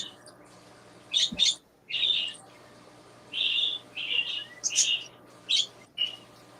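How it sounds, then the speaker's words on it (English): Birds chirp in short bright bursts, several high calls spaced irregularly over a low hum, fairly close and clear. "I think our birds hear each other, Ed."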